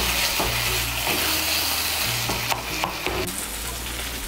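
Taro leaves cooking with coconut and nuts in a kadai, stirred as the water cooks off: a continuous loud sizzle with repeated scraping strokes of a spoon, close up and without talk.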